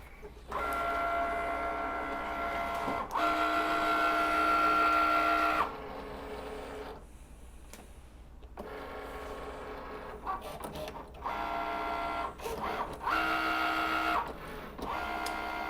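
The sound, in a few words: Cricut machine cutting a paper card layer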